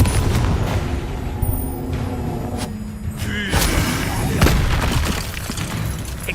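A Confringo blasting spell going off in a Hogwarts Legacy duel, with loud booming explosive bursts and crackling debris layered over continuous battle noise, close and dense throughout.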